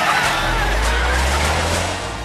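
A cartoon car skids through a red light, a loud, close, continuous screech of tires over a low engine rumble that fades slightly at the end.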